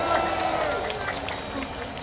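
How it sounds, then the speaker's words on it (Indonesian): A large crowd at an outdoor political rally, the Apel Akbar Desa Bersatu, claps hands in a dense, steady patter under a voice speaking through loudspeakers. "Yang tidak pegang bendera, tepuk tangan."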